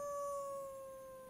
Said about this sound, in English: Were the wild dogs I've been hearing that?